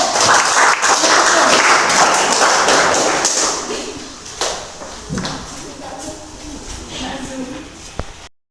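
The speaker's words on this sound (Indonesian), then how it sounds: "Kasih tepuk tangan untuk Agung dulu." A classroom of students applauds loudly for a few seconds, the clapping fading into scattered taps, thumps and quiet voices in the room.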